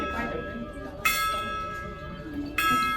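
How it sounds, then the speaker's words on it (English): A hand bell rings twice in a tea room, each bright clang sharp and ringing out over a quiet room background, the second strike coming about a second and a half after the first. "If Erika rings that bell one more time"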